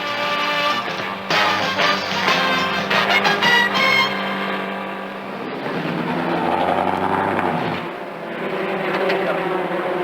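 Race car engine on a Spitfire racer is revved hard on the back straight, a loud, close, steady drone that climbs and shifts in pitch as it pushes past 8,000 RPM.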